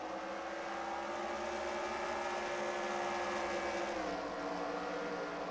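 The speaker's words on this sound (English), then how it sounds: "On that upshift in the second gear, his car just started slowing down." A race car engine in NASCAR Racing 2003 at Sonoma drones steadily and then drops in pitch as it loses revs after a missed upshift into second gear, with faint engine noise continuing underneath.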